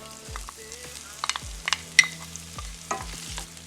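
Garlic, ginger, Scotch bonnet pepper, onion and scallion fry in a pan for chilli con carne, making a quiet sizzle broken by several sharp spoon scrapes and clinks of stirring, with no voices.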